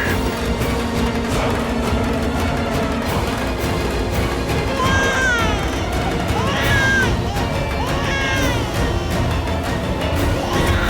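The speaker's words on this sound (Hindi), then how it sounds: "ये बच्चे की रोने की आवाज कहां से आ रही है?" A baby cries in a few short, wavering wails through the middle of the scene, partly buried under a loud, steady bed of background sound that runs throughout.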